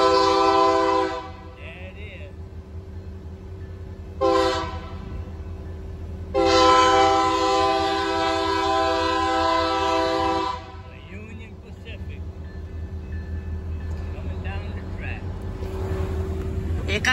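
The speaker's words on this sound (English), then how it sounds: "The Union Pacific. Coming down the track. Here comes the Pacific train." Union Pacific freight train with a UP 1426 locomotive leading an eastbound manifest, passing with a low steady rumble while its horn sounds in loud blasts, one short and one long, before the wagons roll on.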